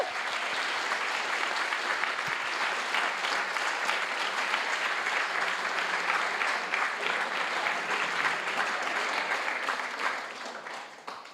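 A large audience gives sustained applause at the close of an event honouring participants and teams, an even, continuous wall of clapping that stays strong throughout and tapers off only in the last second.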